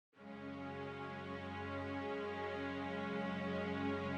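Deep orchestral strings in Logic Pro X hold a thick sustained chord that swells slowly in volume through automated expression, full and continuous with no talking.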